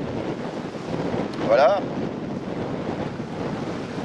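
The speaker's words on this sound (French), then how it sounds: "en sachant qu'on a énormément de vent" Strong wind buffets a microphone outdoors, a steady broadband roar swelling near the middle, with a brief spoken word and a faint high whine during a small Syma X5C quadcopter drone demonstration.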